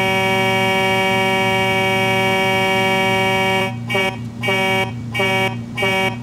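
A legendary car's horn in Forza Horizon 5 blares as a loud sustained truck-like tone, then sounds in four short rhythmic honks with brief gaps.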